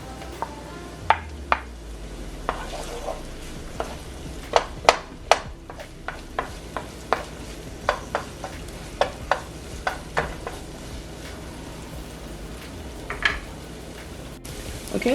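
Garlic and seasoning sauté in a pan, a steady low sizzle under a series of sharp, close clinks and taps from stirring, spaced irregularly throughout.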